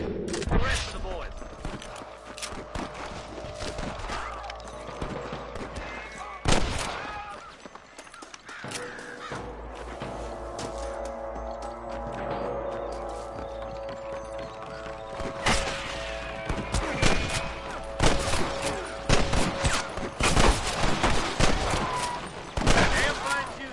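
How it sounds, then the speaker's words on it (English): Repeated gunshots and bursts of rifle fire from a Red Dead Redemption shootout clearing out Pike's Basin, with loud close shots scattered over a continuous battle din while voices talk throughout. "Damn fine shooting, boys."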